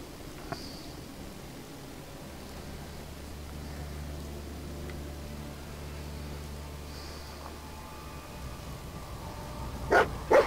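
A dog in a computer game gives a couple of short, sharp barks at the very end, loud against a steady low hum and otherwise quiet background.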